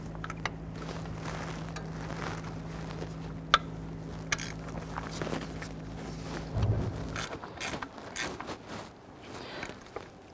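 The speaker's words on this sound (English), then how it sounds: "go ahead and snug down these two bolts" Bolts on the water pump of a 2012–2017 Toyota Camry are snugged down by hand, with faint scraping and clicking tool sounds over a steady low hum that cuts out partway through.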